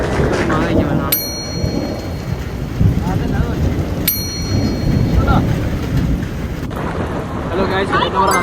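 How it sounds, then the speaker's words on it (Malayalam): Heavy rain pours down in a loud, steady wash with occasional sharp cracks, and voices talk over the downpour throughout. "നല്ല മഴയാണ്"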